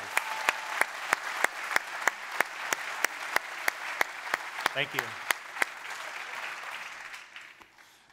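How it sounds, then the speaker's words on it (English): A group claps in a quick, evenly spaced rhythm after a tech presentation, crisp claps sounding at a steady pace before fading out near the end; a single voice briefly speaks in the middle. "Big round of applause for these guys"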